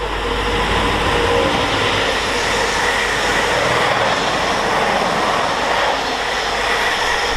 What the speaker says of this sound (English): The DRS freight service worked by